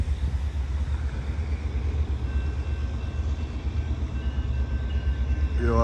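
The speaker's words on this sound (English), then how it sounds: "Here comes the train." An Amtrak train approaches a Glendale railroad crossing with quad gates in a no-horn zone, a steady rumbling roar of wheels and engine that grows slightly louder, with a faint tone near the end.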